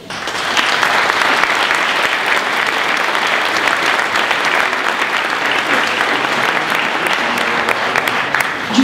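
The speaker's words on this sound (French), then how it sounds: "Alors je vous demande de les applaudir" Audience at a municipal New Year's greetings ceremony in a small French commune applauding steadily, loud and sustained dense clapping filling the room throughout without pause.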